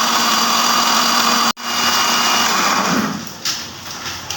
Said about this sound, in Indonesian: Kita blender sampai bumbunya benar-benar halus.